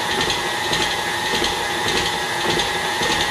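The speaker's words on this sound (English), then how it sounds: "So just mix up the dry ingredients first with a whisk" A whisk stirs dry cake ingredients for a pumpkin chocolate chip cake in a bowl, a rapid, continuous scraping rattle, close and fairly loud, with no talking.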